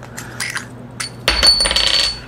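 Earplugs drop into a small container with a few light clicks, followed by a brighter rattling clatter as they settle inside, close and alone.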